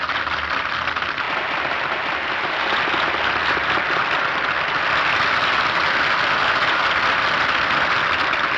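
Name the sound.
weak audience applause after the opera in Citizen Kane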